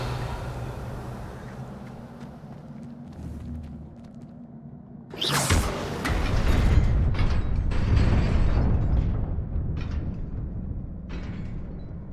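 Revelio spell cast in the Hogwarts Legacy video game: a low mechanical hum gives way to a sudden bright whooshing burst, followed by a loud, swelling magical rumble with scattered sparkling crackles that slowly fades.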